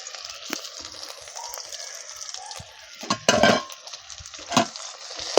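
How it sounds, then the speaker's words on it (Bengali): Ginger garlic paste frying in a pan for an egg masala curry, a soft sizzle with intermittent stirring scrapes and clinks, fairly quiet and close. "ভালো করে আমি ভেজে নেব।"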